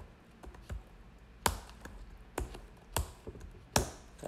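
Keys tapped on a computer keyboard in a quiet room, a handful of sharp separate clicks spaced out, ending with a firmer Enter press, close and clear with no talking.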